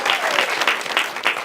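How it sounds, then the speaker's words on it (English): Applause from an audience at a disability film challenge finalist announcement for Best Film, dense continuous clapping that fills the whole short moment. "come on, round of applause!"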